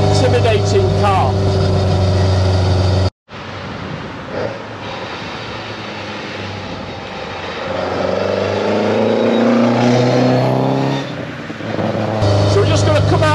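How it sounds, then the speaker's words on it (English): A Ford Escort Mk2 drives at full speed on a road, its engine droning loudly and steadily with strong vibration, briefly cut off near the start, with a person talking over the noise. "It's noisy, it's vibrating, it's a full speed, it's an intimidating car."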